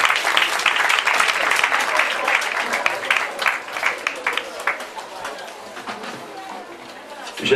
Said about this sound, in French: il faut l'applaudir encore.